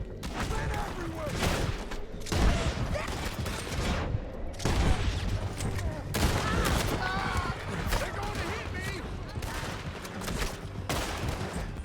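Repeated gunfire in Red Dead Redemption 2 during a hunting outing with Sadie, loud bursts and shots in several clusters mixed with game sounds and voices talking throughout.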